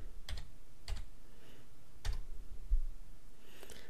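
Keys clicking on a computer keyboard during software setup, a few separate close keystrokes with short gaps between them against a quiet room.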